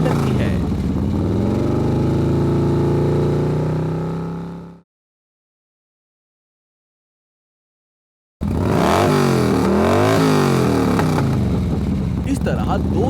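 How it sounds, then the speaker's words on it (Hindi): A cartoon motorbike running on water gives a steady, loud mid-pitched engine drone with shifting revs, cut by a few seconds of silence, then resuming with wavering pitch. "छोटू उसे पैक करके अपनी बाइक पर लेकर जाता है और बाइक पानी पर चलने लगती है।"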